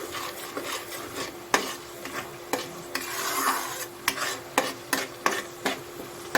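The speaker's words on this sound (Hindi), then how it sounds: "प्याज को हमें तब तक पकाना है जब तक कि उसका कच्चापन पूरी तरह से खत्म ना हो जाए।" Onions with whole spices fry over a high gas flame for chole, a steady sizzle broken by repeated scrapes and taps of a spoon stirring in the pan, close and clear.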